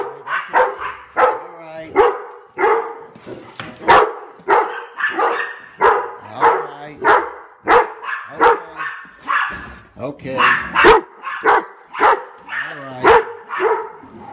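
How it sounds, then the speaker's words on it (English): Several dogs bark and yip excitedly, close by, in rapid overlapping bursts before a morning walk, with a few whimpers mixed in and a person speaking briefly among them. "I gotta go take the dogs for a walk, and I can already hear them going crazy."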